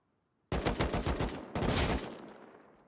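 Video game gunfire: a rapid burst of close, loud shots, a short pause, then a second volley that trails off with an echoing tail. No talking.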